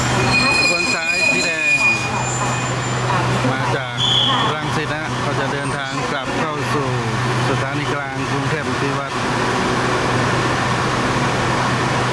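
Thai rapid train 111 rumbles past continuously for several seconds, with metallic wheel squeals and muffled voices underneath.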